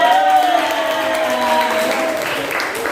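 Children applaud in a classroom with a steady wash of hand claps throughout. An adult voice talks over the clapping and draws out long tones.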